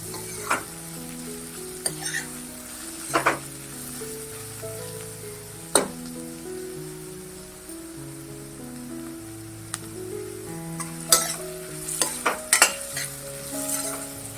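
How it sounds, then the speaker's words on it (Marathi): Cabbage and carrots stir-frying for Hakka noodles, a steady sizzle broken by repeated sharp scrapes and clinks of a spatula tossing the vegetables in the pan, up close with no talking. "आता आपण कोबी घालून घेऊया चांगलं परतून घ्या हे"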